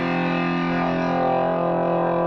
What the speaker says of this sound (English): A distortion pedal, which overloads the signal.